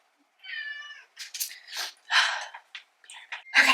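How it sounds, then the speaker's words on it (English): A house cat meows insistently to be let back inside: one drawn-out tonal meow followed by a string of shorter, sharper cries and snorty breaths, close and clear with no talking. "the cat was demanding re-entry"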